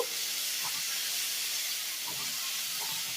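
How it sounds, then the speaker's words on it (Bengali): Onions and six chopped green chilies fry in a pan for homemade pasta, giving a steady, loud, broadband sizzle and hiss that runs unbroken from start to finish with no voices. "পেঁয়াজ আর কাঁচা লঙ্কাটাকে একটু ভালো করে ভেজে নেব।"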